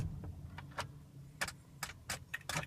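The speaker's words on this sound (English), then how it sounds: "Turn the key on, wait to start" Ignition key on a 1995 Ford 7.3 Powerstroke truck with a warm engine and a no-start fault, heard as a string of soft, jangling metallic clicks from the key ring and switch, close by and fairly quiet.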